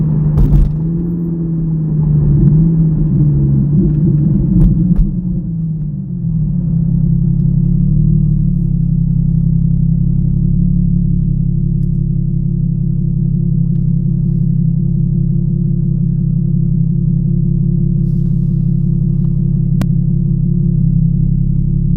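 A truck engine rumbles loud and close while driving, a heavy, steady low drone that holds for the whole stretch after a brief shift in pitch near the start, with no voices.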